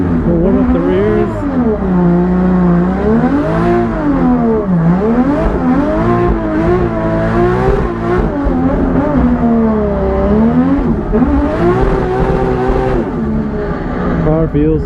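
A BMW E36 drift car warms its rear tyres at a Klutch Kickers drift event, its engine droning and revving up and down loudly from inside the cabin with little break.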